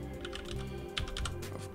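Quick, steady keystrokes on a computer keyboard as a name is typed into an Ubuntu Server 18.04 installer running in VirtualBox, close and fairly quiet with no talking.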